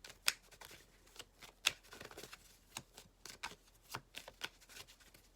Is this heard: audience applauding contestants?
no